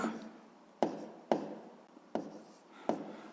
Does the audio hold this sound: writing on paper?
yes